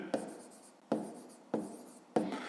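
A pen writing on paper during a fifth-grade maths exercise, four distinct scratchy strokes at an even, unhurried pace, close and quiet, with no talking.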